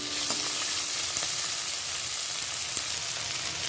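Tomato and mixed vegetables frying in hot oil for a vegetable dal, giving a steady, dense sizzle that runs unbroken throughout at close range, with faint scrapes from time to time.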